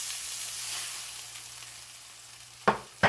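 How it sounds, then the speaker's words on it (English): Steaks searing in an oiled pan, a steady soft sizzle that keeps going, with two short sharp clatters near the end. "these steaks are seared on both sides"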